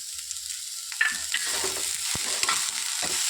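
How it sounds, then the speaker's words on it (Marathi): Chopped cabbage, capsicum and spring onion stir-fried on high flame for dry paneer chilli, soft sizzling with scraping stirring strokes of a spatula in the pan, close and fairly quiet. "आपल्याला हे सर्व हाय फ्लेमवर परतवायचं आहे, जेणेकरून ही आपल्या भाज्या नरम होतील."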